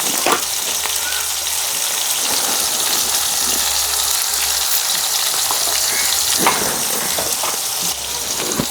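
Onions and tomatoes with turmeric sizzle and fry in a hot pan, a steady loud crackling hiss with occasional sharper pops and stirring scrapes, continuous across the whole stretch.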